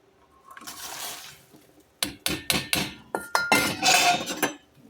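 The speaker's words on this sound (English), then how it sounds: "once the brine comes to a boil, you shut off the heat and you dump in your jalapenos" Sliced jalapeno peppers are dumped into a pot of hot brine, giving a soft wet rush followed by a run of sharp clinks and clatters from pot and utensil, close and fairly loud.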